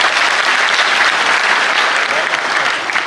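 Dense, loud applause from an audience at a Hindi comedy poetry gathering (hasya kavi sammelan) fills the short stretch, steady and close without a break.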